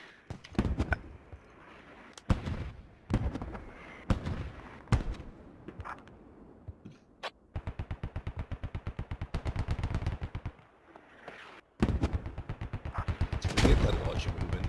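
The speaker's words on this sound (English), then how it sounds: "I'm shooting." Gunfire in the tactical shooter Squad: scattered single heavy shots early on, then long rapid automatic bursts with a steady rattling rhythm, loud and close, with a louder flurry near the end.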